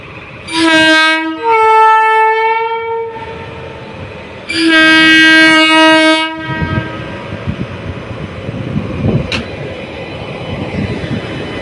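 A train at the P.D. Malviya railway level crossing in Rajkot sounds two loud, long horn blasts, then rumbles past close by with steady wheel and carriage noise.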